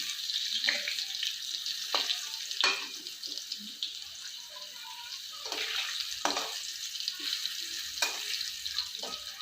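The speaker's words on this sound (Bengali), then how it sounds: "এখন আলুগুলো ভাজা হয়ে গেছে" Faint sizzling and crackling of potatoes frying in a pan, with several short scraping stirs at irregular intervals, fairly quiet.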